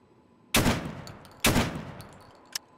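A gun in Fallout fires two loud, sharp shots roughly a second apart, each with a short decaying tail, followed by a brief quieter click-like report.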